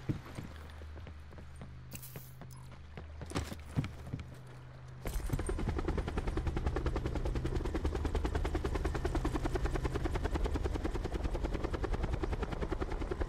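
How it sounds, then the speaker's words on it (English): A helicopter in the video game Call of Duty: Black Ops 4, preceded by scattered gunfire, then a loud, steady, close rotor thump that fills the scene continuously. "I'm getting in the chopper"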